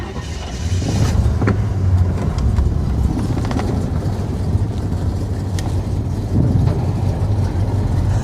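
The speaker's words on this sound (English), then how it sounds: "I'm gonna try to drive it off this trailer" A barn-find 1967 AMC car, running for the first time in 14 years, is driven off a trailer, its low engine rumble steady and close throughout with a few clunks and knocks over it.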